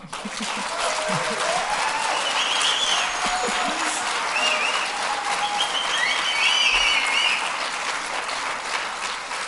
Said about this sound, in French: je vais essayer de tourner le téléphone vers la salle pour que tu entendes les tonnerres d'applaudissements qui vont t'encourager